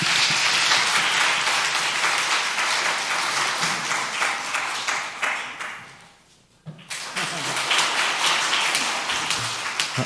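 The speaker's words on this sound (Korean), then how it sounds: "박수 부탁드립니다" A church congregation applauds at a Sunday afternoon service, a dense, steady clapping that fills the room, fades briefly to near silence, then swells back up just as loud.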